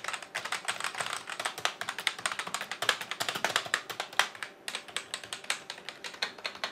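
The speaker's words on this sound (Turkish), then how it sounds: "Yani normal klavyeden birazcık fazla ses çıkıyor ama mekanik klavyeler kadar böyle takır tukur şakır şukur bir ses çıkmıyor." Steady, fairly soft typing on an MSI Vigor GK30 non-mechanical gaming keyboard, a quick irregular rhythm of muted clicks and taps, close by, with no talking.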